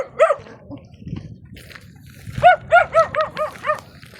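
A dog barks nearby, a single bark at first, then a rapid run of several yappy barks after a short pause.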